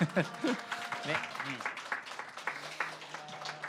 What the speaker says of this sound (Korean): 다 같이 너무 환영한다고 박수 한번 쳐주세요